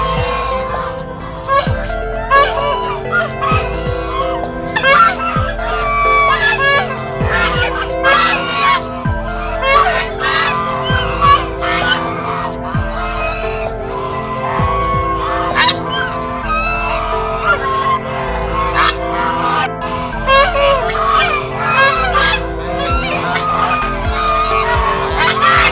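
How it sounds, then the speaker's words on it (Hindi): A large flock of ducks honks and quacks continuously in an open area beside water, a loud, dense chorus of overlapping calls close by, with a few faint voices underneath. "इतनी सारी बतख है यहाँ पे"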